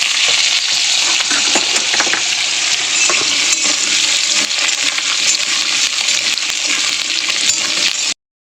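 Potatoes sizzle and crackle steadily in hot oil in a kadai with cauliflower stems and black cumin, a close, continuous frying hiss with occasional stirring scrapes and no talk.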